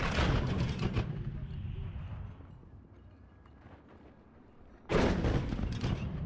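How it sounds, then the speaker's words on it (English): Artillery battery in the WARNO wargame opens up in a simultaneous volley, a dense cluster of heavy booms at the start, a lull of rumbling, then a second loud salvo toward the end. "Really awesome artillery battery."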